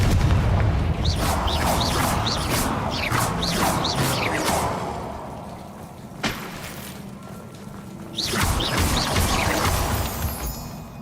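Repeated Confringo fire-blast spells from the Hogwarts Legacy video game burst out in loud whooshing booms with crackling debris, one brief impact mid-way, then another dense volley near the end.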